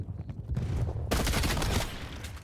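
Hauer 77 shotgun fired in Call of Duty: Black Ops Cold War, a quieter shot followed by a louder, close blast whose heavy report and echo tail off toward the end.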